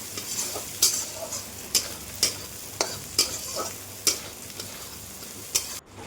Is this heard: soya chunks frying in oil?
yes